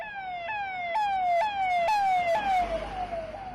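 An emergency siren wails in quick repeating downward sweeps, about seven cycles, clear and fairly close, with faint traffic noise beneath.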